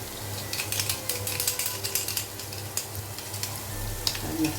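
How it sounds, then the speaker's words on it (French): Large garlic cloves, cut in quarters, frying in a pan and being stirred, a steady close sizzle with repeated scraping strokes against the pan and a low background hum. "نحرك باش ما تحرقش ليا هاد الثومه"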